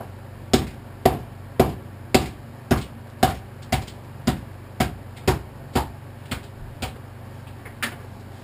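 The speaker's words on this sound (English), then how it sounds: "Used a hammer and beat around the outside of it." A hammer beats around the outside of a jammed drift car differential, about fifteen sharp metallic strikes at a steady, slightly slowing pace, close and loud, gradually fading in force.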